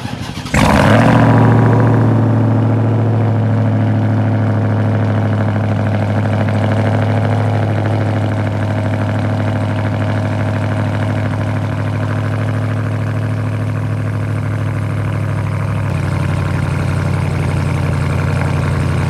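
A 2022 RAM 1500 TRX pickup's supercharged Hellcat V8 fires on a cold start with a sharp bark, then settles into a loud, steady, deep high idle that holds for the rest of the stretch, dropping slightly near the end.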